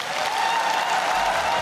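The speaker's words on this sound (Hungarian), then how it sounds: "Gyurcsány Ferencet és utódját, Bajnai Gordont dübörgő taps fogadta." Dense, thunderous applause from a crowd at an MSZP political gathering greeting Ferenc Gyurcsány and Gordon Bajnai, a continuous loud wash of clapping.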